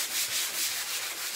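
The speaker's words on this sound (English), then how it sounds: "I've got a sanding block." Steady, rhythmic rasping of a sanding block scrubbing back and forth across a chalk-painted surface, knocking off chunky bits, close and continuous with no talking.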